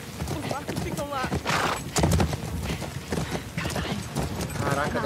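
Horse hooves clip-clop steadily in The Last of Us Part II, a rhythmic trotting close by, with a horse whinnying and game noise mixed in throughout.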